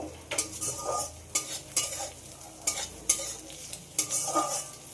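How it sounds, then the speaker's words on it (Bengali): An egg being scrambled in a frying pan: rhythmic, close-up scraping strokes of a utensil recur about once a second over a soft, steady sizzle. "ডিমটাকে একটু ভুজিয়া করে নেব"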